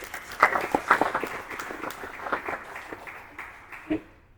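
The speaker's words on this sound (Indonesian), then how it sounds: "Tepuk tangan dulu dong semuanya" A modest audience at an institute of technology claps in scattered, uneven bursts, individual hand strikes audible near and far, thinning out toward the end with a last isolated clap.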